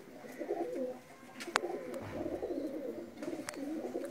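A pair of golden pigeons coos nearby in a repeated run of soft, low, rolling calls, broken once by a single sharp click.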